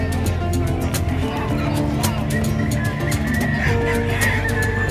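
Chickens at a livestock market in San Carlos City, clucking and calling in a busy, continuous din with people talking throughout.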